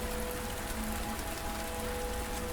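Steady, dense rain falls on an empty medieval market street after closing, a continuous close hiss of drops on surfaces with no voices.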